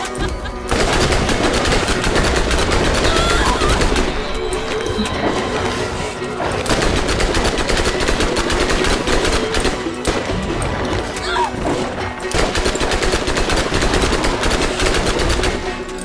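Sustained automatic gunfire from a Borderlands shootout, dense rapid bursts rattling continuously across the whole stretch with brief lulls, loud and close, with a voice occasionally shouting over the shooting.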